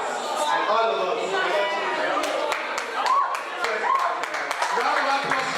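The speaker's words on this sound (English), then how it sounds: "Round of applause for that, please." An audience at a student conference of English and literary studies claps in scattered, uneven bursts, moderately near, with chatter and a voice running underneath.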